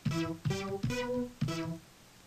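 Four resonant Sylenth1 synth saw plucks with filter resonance raised past halfway, in quick succession, each with a sharp, nasal, ringing bite that decays over a moment; no voices.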